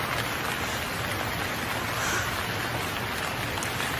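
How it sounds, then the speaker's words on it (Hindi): Heavy rain pours in an Indian village as a constant dense hiss with no break, and no distinct thunderclap stands out. "कितनी तेज़ बिजली गरज रही है और बारिश भी कितनी तेज़ हो रही है"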